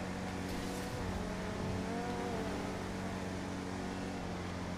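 Game car in GTA roleplay speeding up hard, a steady loud engine drone with a rising whine layered over a constant hum, continuous throughout.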